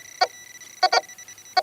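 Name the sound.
Tesoro Golden Umax metal detector beep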